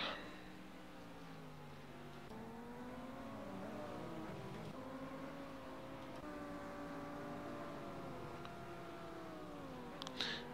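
AI-driven Blancpain GT Series race cars lap a circuit in a racing video game, several layered engine tones rising and falling together in a steady, continuous whine with no talk.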